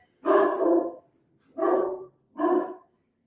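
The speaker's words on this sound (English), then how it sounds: "that's his scary bark" A big dog lets out three deep, harsh barks, a long first one then two shorter ones spaced about a second apart, close and loud with quiet gaps between.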